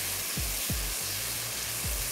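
Bhindi (okra) frying in hot oil in a masala for dhaba-style bhindi masala, giving a steady, close, loud sizzle with a few soft low thumps, and no talking.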